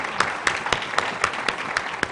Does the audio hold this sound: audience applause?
yes